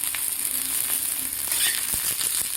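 Cluster beans (gawar) fry in oil in a pan for a gawar fry, giving a loud, continuous crackling sizzle with scattered pops and soft stirring knocks throughout.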